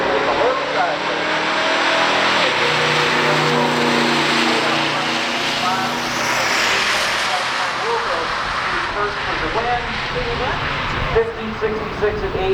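A 1968 Mercury Cougar GT-E and a 1970 Mercury Cyclone launch side by side in a stock drag race, loud V8 engines roaring and revving hard at close range, with tire noise and an announcer talking over the sustained engine roar.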